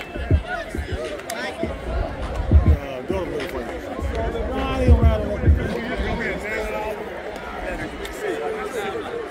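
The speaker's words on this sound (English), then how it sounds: "Crowd is packed" A packed homecoming football crowd at Hampton University, heard as a busy outdoor murmur of many voices with thumps and movement nearby, while people talk close by over it.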